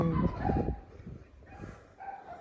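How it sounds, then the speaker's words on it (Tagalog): Several dogs bark and yip in a quiet village street, a cluster of sharp barks up close at first, then fainter whimpering yelps trailing off. "Daming aso dito."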